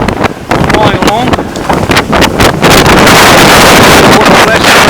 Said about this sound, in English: getting a bit of a gust. We're going to windward, flying along.